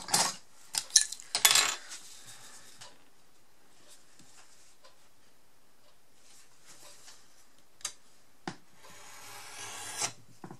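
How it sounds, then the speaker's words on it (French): Scissors or a blade trimming the excess edge of scrapbook paper for a mini album flap: a few quick rasping cuts at the start, then quieter scattered snips and taps near the end, with no talk. "Je vais couper tout de suite ce qui dépasse, ce qui est en trop."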